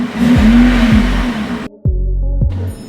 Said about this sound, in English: I'm gonna go ahead and start the car up, get some stock sound clips